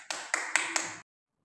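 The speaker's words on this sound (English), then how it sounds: "Haseeb, can you clap?" A small child claps hands four times in a quick, even rhythm in a nursery classroom, close and crisp, then stops into silence.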